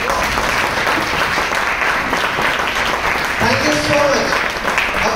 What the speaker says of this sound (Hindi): So एक बार जो आप सभी यहाँ पे मौजूद है उनके लिए जोरदार तालियां